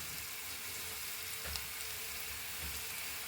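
Onions or spices frying in hot oil until browned like birista for a prawn head curry, a steady close sizzle with a faint clink partway through.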